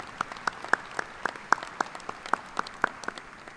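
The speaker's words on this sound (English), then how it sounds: "Let's give him a good round of applause" Sparse claps at a university commencement ceremony, a dozen or so distinct hand claps spaced irregularly, fairly faint and roomy, with no voices over them.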